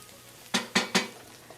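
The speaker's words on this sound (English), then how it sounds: "let me stir it up a little bit here" A utensil stirs the contents of a pan while a Hatch green chile casserole is being cooked: three quick, evenly spaced scraping strokes, close and fairly loud, over a quiet kitchen with no talking.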